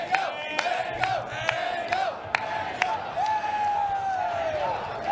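Large crowd at a Super Smash Bros. Melee tournament's losers finals screaming and cheering, a sustained roar with sharp whoops, whistles and claps rising and falling for several seconds.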